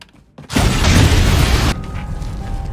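A film explosion tears apart a statue: a sudden loud boom bursts in after a brief hush, roars densely for over a second, then falls to a rumbling, crackling tail of debris.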